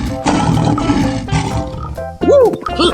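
A lion roars loudly in a 3D animal slide video game, with deep drawn-out growls overlapped by excited voices.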